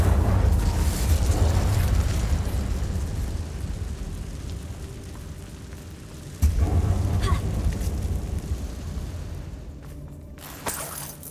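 Incendio fire spell in Hogwarts Legacy, cast inside an old closed mine: a loud roaring blast with crackling bursts, a second impact midway, then fading debris.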